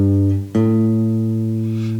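An electric guitar rings out a lead-guitar scale in the E position using alternating down and up pick strokes, with a sustained note, a brief dip, then a new note that rings on clearly and alone.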